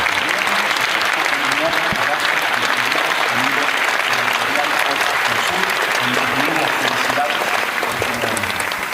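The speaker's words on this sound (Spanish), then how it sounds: "espero que haya llegado un poquito el aplauso hasta allá" An audience at a book fair in Argentina gives sustained, loud applause after a speech, a dense, even wash of many hands clapping from start to finish.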